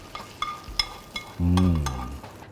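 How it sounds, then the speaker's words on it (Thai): Food is stir-fried in a pan with a few quick scraping clinks and a soft sizzle, briefly joined by a short low hum. "เวลาผัดอย่างนี้แล้วจะหอมเลยครับ"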